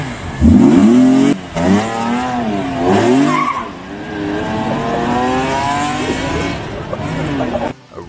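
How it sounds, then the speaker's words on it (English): A car spins out and skids with squealing tires and a revving engine, loud and close, with the rising and falling engine tone sweeping through the whole stretch. "This idiot here spun the car out and almost crashed the car."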